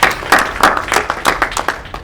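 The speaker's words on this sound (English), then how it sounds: "I think a round of applause, well done." A convention session audience at a geek festival claps, a loose scatter of hands in quick, uneven bursts, close and fairly loud, tapering off briefly.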